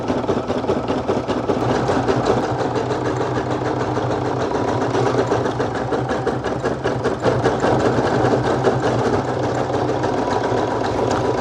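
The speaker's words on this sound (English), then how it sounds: "let's go ahead and toss it back into the machine and continue the stitch out" A Brother domestic embroidery machine fitted with a magnetic hoop stitches out a design in a continuous, fast mechanical chatter that stays close and even throughout.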